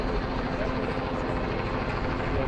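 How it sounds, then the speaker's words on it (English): A helicopter hovers overhead at a Toronto police briefing after a deadly shooting. Its dense, steady rotor rumble fills the whole stretch and drowns out the voices. "I can't hear you. The helicopter."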